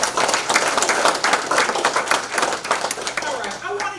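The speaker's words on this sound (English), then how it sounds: "So give Josh a round of applause." A crowd applauding at a Mississippi culture event, dense clapping that holds steady for a few seconds, with faint chatter mixed in.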